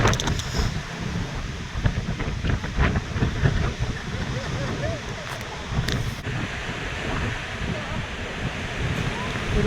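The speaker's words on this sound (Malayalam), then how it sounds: "നല്ല കാറ്റാണ്, നല്ല അടിപൊളി കാറ്റാണ് ഗൈസ്" Strong wind blowing at a hillside tea stall in Munnar, a continuous rough roar buffeting the microphone with gusty swells, filling the whole stretch.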